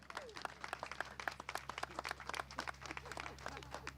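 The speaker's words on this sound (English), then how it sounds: "let's give her a great round of applause" A small morning crowd at an affordable housing event claps for a city official, with scattered, distinct hand claps in an uneven rhythm, fairly faint over a steady low hum.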